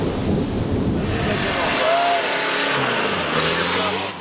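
A rural thunderstorm roars with heavy rain and a low rumble of thunder, a dense loud wash of noise that continues throughout.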